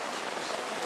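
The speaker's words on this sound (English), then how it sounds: "then the rain started really coming down" Steady rain pours down around the largest temple in Bali, a dense, even hiss of falling water close by with no break across the short moment, carrying no talk.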